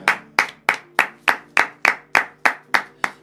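A church congregation claps in unison to glorify Jesus Christ, about ten sharp, evenly spaced claps in a steady rhythm, loud and close, with no talking.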